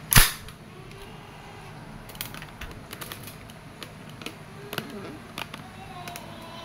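A WE M4 RIS gas blowback airsoft rifle in desert finish, set to full auto: a loud opening shot, then sparse sharp clicks and cracks spread across the clip over a steady background hiss.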